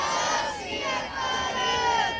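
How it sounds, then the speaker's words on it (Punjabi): A crowd of children and adults at a Sikh gathering shouts the jaikara response to 'Bole So Nihal' in unison, a loud, sustained collective cry with overlapping voices rising and falling. "ਸਾਰਿਆਂ ਨੇ ਹੱਥ ਉੱਪਰ ਕਰਕੇ ਜਿਹੜਾ ਹੈ ਜਵਾਬ ਦੇਣਾ ਹੈ ਫਤਿਹ ਦੀ ਸਾਂਝ ਦਾ ਬੋਲੇ ਸੋ ਨਿਹਾਲ"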